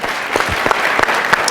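An audience applauds a departing speaker at a real estate event stage, steady dense clapping filling the room without interruption.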